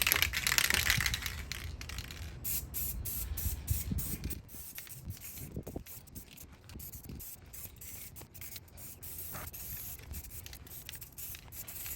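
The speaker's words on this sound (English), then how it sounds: "We're using Krylon Fusion, gloss black on all of this stuff here." Krylon Fusion gloss black spray paint hisses from an aerosol can onto golf cart lift-kit parts, with a strong spray burst at the start followed by softer intermittent hissing, clicks and rattles nearby.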